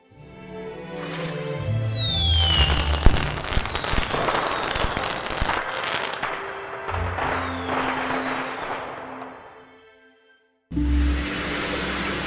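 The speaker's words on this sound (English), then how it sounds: "I hear the fireworks, so maybe it's all fireworks." Fireworks sound effect in the Disney Story Realms app game's Frozen chapter: a whistling rocket launch followed by a long stretch of crackling, popping bursts, fading to silence before another loud burst.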